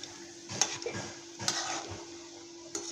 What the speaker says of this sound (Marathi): गुलाबजाम भाजून घेऊया